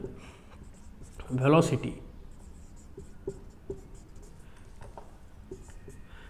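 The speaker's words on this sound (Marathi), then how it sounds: "आता इथं मी लिहितो फायनल" A pen scratches out a physics formula for final minus initial velocity during a Marathi-language physics lesson. The writing is close and steady and runs under a teacher's speech, with a louder burst of voice partway through.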